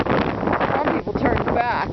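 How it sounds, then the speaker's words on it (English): Strong wind buffeting a microphone on the summit of Mount Jefferson, a steady roaring rumble that stays loud throughout, with a voice briefly audible beneath it. "It's very windy, but we had good viewing."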